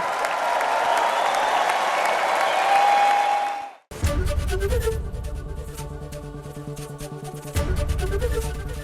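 A rally crowd cheers and applauds in a dense, steady roar for several seconds, then cuts off abruptly and gives way to loud music.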